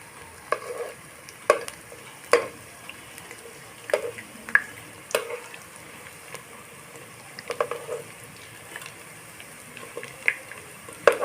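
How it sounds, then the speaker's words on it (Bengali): Rice and lentil fritters are turned one at a time while they fry, with a low steady sizzle under repeated sharp spatula clicks and scrapes at irregular intervals. "আমি এক এক করে বড়াগুলো এখন উল্টে দিব"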